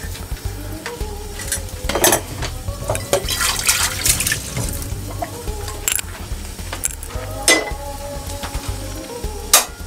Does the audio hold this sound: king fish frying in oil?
yes